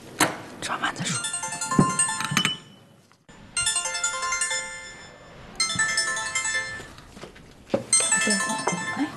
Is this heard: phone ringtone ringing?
yes